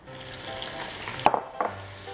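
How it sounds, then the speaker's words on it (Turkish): Butter sizzling in a hot pan with toasted almonds for rice stuffing, a steady frying hiss with a couple of brief stirring clatters, close and fairly loud. "Hemen şimdi tereyağımızı atıyorum"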